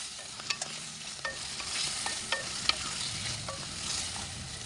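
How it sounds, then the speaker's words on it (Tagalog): Tomato sauce with beef bones stirred in a frying pan, a soft steady sizzle with scattered clicks and scrapes of the spoon against the pan, close and quiet, no talk. "Ngayon naman na yung ating tomato sauce. Haluin lang natin konti."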